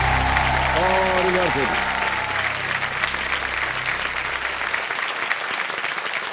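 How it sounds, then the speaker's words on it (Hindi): Studio audience applause on the set of the game show Kaun Banega Crorepati, a loud continuous clapping wash with the host's voice briefly over it and a musical sting swelling beneath at the start. "जोरदार तालियां बज जाए एक बार इधर से भी"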